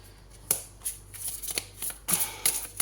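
Tarot cards being shuffled by hand in a series of quick riffling bursts and soft slaps, close and clear with no talking.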